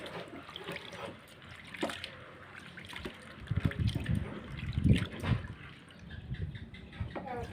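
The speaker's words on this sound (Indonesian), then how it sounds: "ini aku mau cuci bilas dulu karena kemarin pas waktu direndam nggak dicuci dulu" Soaked mung beans are rinsed in water, with sloshing, trickling and swirling splashes building in the middle then easing, close and moderately loud.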